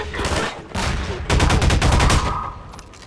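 Gunfire in Half-Life 2: Lost Coast comes in loud bursts of rapid shots separated by short pauses, close and harsh, with players talking faintly in the background.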